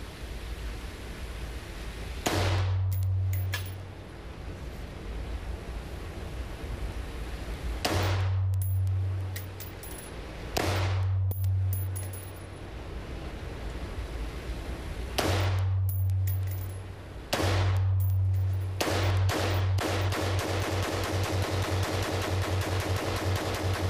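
Fully automatic rifle firing at an outdoor range, five separate rapid bursts spaced several seconds apart, loud and close, with a longer sustained burst near the end and no talk.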